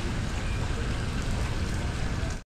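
Steady rain pours down outdoors on the way home from the market, a dense continuous hiss with low rumbling patter that stays loud and even throughout.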